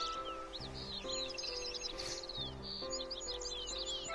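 Songbirds chirp and trill in quick, overlapping bursts in the Kingdom of Corona area of Kingdom Hearts 3, set over a soft, steady tonal music bed with no talking.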